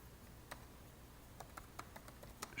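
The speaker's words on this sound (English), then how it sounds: "So what I'm going to do is I'm going to type in" Quiet typing on a computer keyboard, a sparse run of faint key clicks with short irregular gaps.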